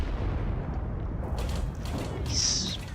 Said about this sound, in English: Cruiser 1 is firing APCR rounds at him